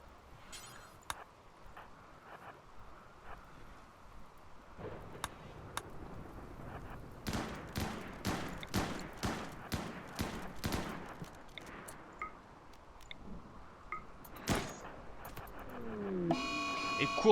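Colonist gunfire in the video game RimWorld, a series of sharp, fairly quiet shots in an irregular then steady rhythm, rising in density mid-way under low background game sounds.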